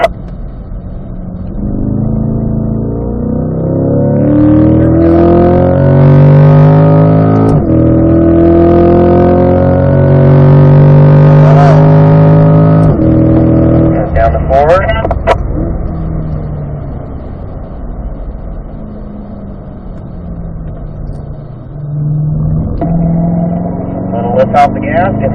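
A race car laps the Ron Fellows circuit, its engine loud and close as it revs up through the gears, lifts off for a corner, then powers out again, with a voice talking throughout.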